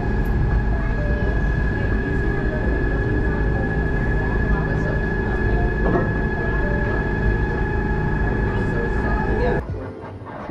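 A tram car inside the Gateway Arch in St. Louis hums and rumbles steadily along its track with a constant whine, then the noise drops off abruptly near the end.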